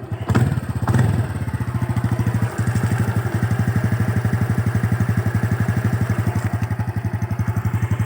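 Stock-engine Honda Wave 125i motorcycle idling steadily nearby, a rapid even putter that holds constant after a couple of early thumps, with no talk over it.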